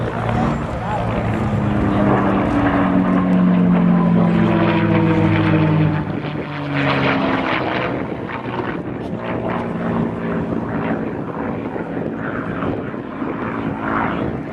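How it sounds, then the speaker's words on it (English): A P-51 Mustang's Merlin engine roars loudly as the plane passes overhead, its deep harmonic drone shifting in pitch, with voices talking underneath. "Listen to the sound of that Merlin engine."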